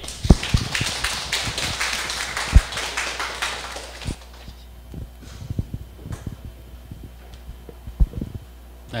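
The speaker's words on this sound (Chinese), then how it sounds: "请大家热烈掌声欢迎。" An audience gives a lecture guest a burst of dense, warm applause for about four seconds. The clapping then thins to scattered single claps and taps, with light room noise around them.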